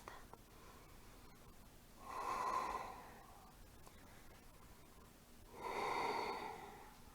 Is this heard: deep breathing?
yes